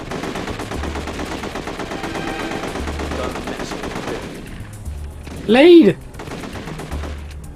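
Gunfire in the PS2 video game The Getaway, with dense rapid shots and bursts crackling over game noise, then a sharp loud burst near the end; a voice shouts briefly amid the shooting.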